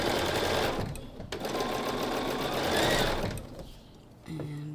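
Sewing machine chain piecing quilt blocks with a quarter-inch seam: a close, fast, steady mechanical whir running for a few seconds, pausing briefly, then resuming, with faint background noise.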